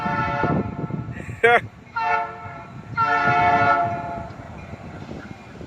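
A train horn sounds in several loud blasts, one short and sharp, then longer held tones, over the rumble of a passing train.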